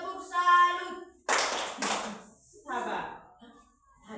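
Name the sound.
class doing a rhythmic clapping routine, tepuk salut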